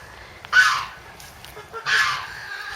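Farm chickens of the Brahma and Cochin breeds give two loud, harsh honking calls close by, one near the start and one about halfway through, with quiet pauses between.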